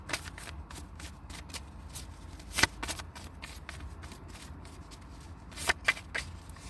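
Tarot or oracle card deck being shuffled, soft riffling and flicking with a few sharper snaps, close and fairly quiet, no speech.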